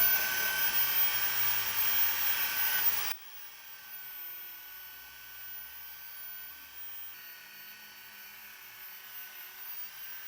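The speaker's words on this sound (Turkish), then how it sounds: "Pistonları blok yüzeyini taşlıyoruz." A loud, steady high-pitched grinding whine for about three seconds, then it cuts off abruptly, leaving a quieter low hum, as a Tofaş Şahin 1.6 engine block surface is ground.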